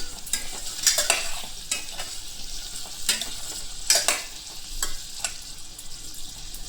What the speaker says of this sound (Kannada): ಸ್ವಲ್ಪ ಬಾಡಿಸ್ಕೊಳ್ಬೇಕು ಇದು ಎಣ್ಣೆ ಒಳಗೆ